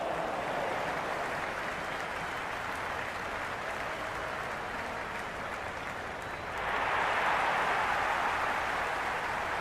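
A large cricket crowd at an India vs South Africa T20 match keeps up a broad, constant roar and cheer that swells noticeably louder near the end, with no nearby voices.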